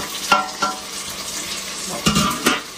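Onion and tomato frying in a pan, a steady sizzle with several clanking, scraping spoon strokes against the metal as the mixture is stirred.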